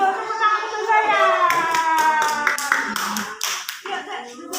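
Kindergarten children clapping in a classroom, a scattered run of small hand claps that starts loosely and grows into sharper, quicker claps, mixed with children's voices and a teacher talking.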